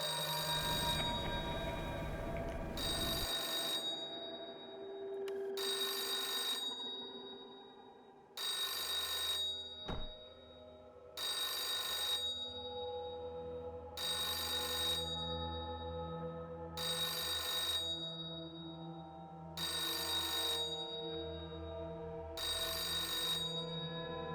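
A telephone bell rings repeatedly in the Hotel Infinity video game, eight or so evenly spaced bursts over a low droning ambience, loud and alone with no talk.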